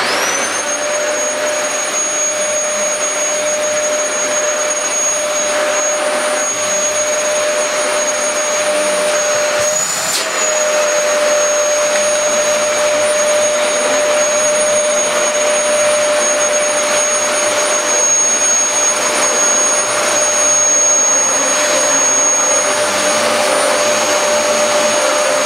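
Dyson DC14 All-Floors upright vacuum cleaner running for a suction test, a loud, unbroken motor roar with a high whine that holds steady for about twenty-five seconds, with a small dip in pitch midway.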